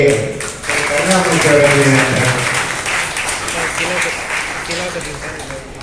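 A seminar audience at a traditional Siddha medicine practitioners' gathering in Salem applauds, a sustained burst of clapping that swells and slowly fades, with a voice talking over it.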